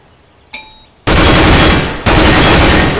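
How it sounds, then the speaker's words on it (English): Counter-Strike: Global Offensive weapons course training mode gunfire: after a brief metallic clink, two loud, sustained automatic bursts start at about one and two seconds and fill the rest of the clip, with no talking. "Don't forget, shoot in short bursts."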